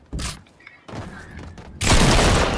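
Gunfire cracks in Fortnite, with sharp bursts and a loud, dense blast near the end, close and harsh over game noise.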